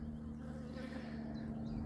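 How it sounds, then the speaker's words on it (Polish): A steady, continuous buzzing of many bees droning together over a flowering mustard field, with no talking. "pszczoły na tym chodzą"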